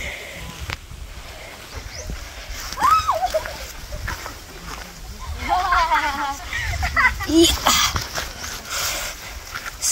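Water splashing near a river while hiking on Mount Mariglem, with bursts of sloshing and spatter, panting, and voices talking over it.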